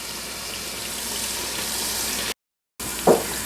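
Onions and garlic frying in a pan for a turkey stir fry give a steady, soft sizzling hiss that runs on evenly, broken by a short silent gap and a small clatter near the end.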